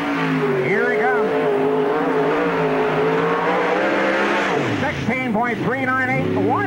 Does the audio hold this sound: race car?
yes